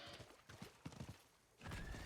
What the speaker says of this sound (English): I will get the horse